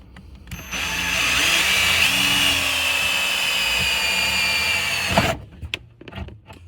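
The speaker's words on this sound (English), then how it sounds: "And then I just drill it." A power drill bores a hole through a Boxer van seat: a close, loud, steady whine holds for about four and a half seconds, then gives way to a few short clatters of handling.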